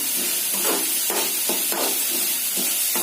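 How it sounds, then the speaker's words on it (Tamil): Potato filling for aloo paratha sautés in a pan with a steady, close hiss and sizzle, broken by soft rhythmic stirring scrapes about every half second, with no voices. "இது நல்லா வதங்கட்டும்."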